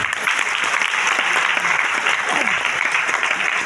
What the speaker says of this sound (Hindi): तालियां जोरदार बजनी चाहिए एक बार मैडम के लिए